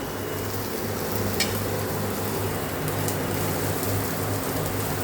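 Crumbled idli sizzles and fries steadily in a hot pan with salt added, a loud, even crackle close by with a couple of brief clicks and no talking.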